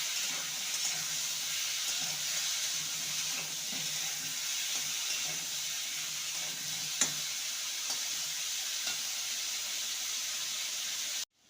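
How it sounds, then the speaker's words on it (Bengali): Potato pieces fry in hot oil with turmeric and salt in a pan, a steady bright sizzle that runs evenly with a few soft stirring knocks and one sharp click. "এবার আলুর টুকরোগুলো দিয়ে দেবো আলুটাকে ভেজে নেব"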